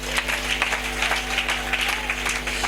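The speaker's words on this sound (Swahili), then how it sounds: "Mpigie Bwana makofi." A church congregation claps for the Lord, an even, sustained spatter of many hands over a low electrical hum, moderately loud and without pause.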